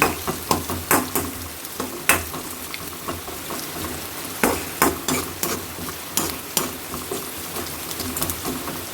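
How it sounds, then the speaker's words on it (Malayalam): Mustard seeds, with a little fenugreek, splutter in hot coconut oil for sambar tempering, giving sharp irregular pops over a steady sizzle. "നമ്മുടെ സാമ്പാറിലേക്കുള്ള കടുക് പൊട്ടിക്കുക"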